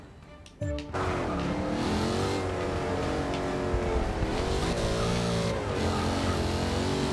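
Race car engine in Forza Motorsport 6 revving loud and sustained after a brief quiet start, pitch rising and falling as the throttle is feathered, with faint tire noise.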